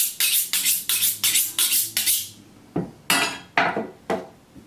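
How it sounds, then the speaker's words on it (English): A kitchen knife is drawn repeatedly across a sharpening steel, giving about seven quick, evenly spaced bright metallic scrapes, then a few slower, heavier strokes, close and clear with no talking. "We're just going to sharpen up a little bit. A sharp knife is a safe knife."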